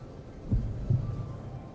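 Two low, muffled thumps of a game heartbeat in Final Fantasy 14 land about half a second apart over a quiet hum.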